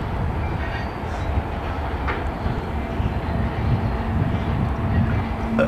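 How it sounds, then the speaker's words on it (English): A train rolls past outdoors near a cell phone tower, a broad, steady rumble with faint rhythmic rail clatter that swells gradually, moderately close, with light background noise and no talk. "Oh, look, there's a train."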